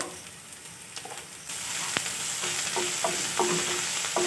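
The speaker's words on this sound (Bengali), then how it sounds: "মশলাটা ভালো করে কষিয়ে নেব" Spice paste with chili powder and cumin powder is being fried. Sizzling starts soft and jumps louder midway, with a sharp clack and then several rhythmic spatula scrapes toward the end, close and without speech.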